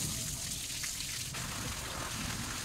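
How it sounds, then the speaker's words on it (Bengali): Water pours and splashes onto a potted flower plant, a soft continuous trickle heard close but faint. "ফুল গাছটিতে একটু জল দিয়ে দিলাম।"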